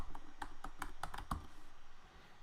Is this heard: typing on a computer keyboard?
yes